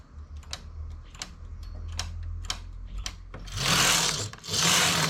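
A domestic knitting machine knitting rows, close mechanical ticking and clicking of needles followed by two loud rushing sweeps of the carriage, with no talking.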